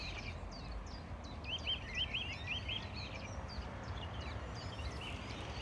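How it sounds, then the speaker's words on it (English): Birds sing and chirp in repeated short phrases on a hilltop overlooking a city, moderately close over a steady low rumble of distant wind and city noise. "you can look across the city and then you can listen to the birds"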